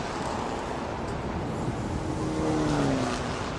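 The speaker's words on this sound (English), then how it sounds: "You can hear these trucks running around." Racing trucks at the B-Quik Thailand Super Series circuit roar past as a continuous engine drone that swells slightly near the end, with a faint rising whine from a passing truck and no speech.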